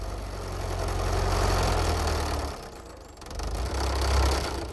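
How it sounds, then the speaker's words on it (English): A cartoon farm tractor's engine chugs and idles with a low, rumbling throb that dips briefly midway then swells again, fairly close and loud with no talking. "while Farmer Stubble took a turn in the tractor"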